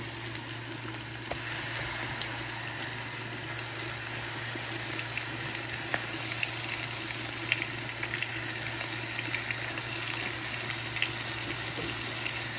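Curry paste sizzles steadily in a frying pan over already-fried ingredients for Guyanese chicken and goat curry, a continuous close, even hiss with occasional small crackles and no talking throughout.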